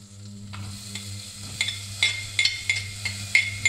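Shallot and garlic sizzling in a saucepan over fairly high heat, a steady close fry with a series of sharp clinks and stirring taps over it.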